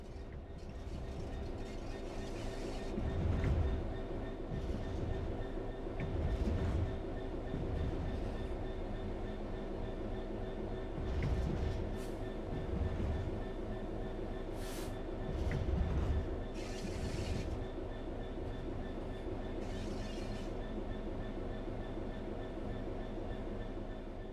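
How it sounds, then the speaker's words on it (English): A train from Train Sim World 3 coasts on level ground, its steady rolling drone broken by periodic rhythmic thumps and clanks of wheels over rail joints, with no one speaking. "The train will then coast on level ground, and the train will only slow down very gradually."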